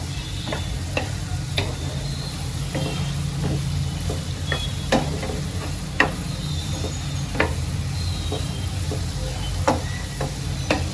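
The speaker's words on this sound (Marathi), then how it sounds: "मी आता कांद्याला चांगला फ्राय करून घेते" Onions frying in a pan over low gas heat for paneer bhurji, with a steady sizzle and repeated sharp scraping clicks of a spoon stirring, close and continuous with no talk.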